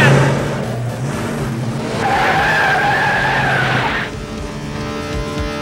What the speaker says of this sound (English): a car race with no spins and no crashes, but plenty of thrills